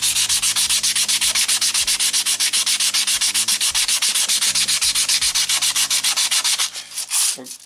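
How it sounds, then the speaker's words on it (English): Guitar frets on a Yamaha Revstar are sanded with oblique strokes across each fret, a loud, close, rapid rhythmic rasp of dozens of even back-and-forth passes that slows and breaks up at the very end; no talking. "I just go across the fret this way, kind of obliquely, slightly oblique."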